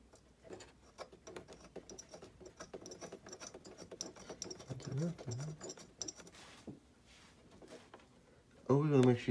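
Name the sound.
wrench tightening spark plug on old Lawnboy mower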